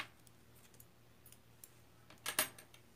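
Scissors cut crochet yarn with a soft snip near the end, after a few faint scattered clicks in a quiet room.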